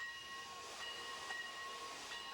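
Steady, soft hiss of steam from a steam train, continuous and even with a faint tonal ring through it and no voices.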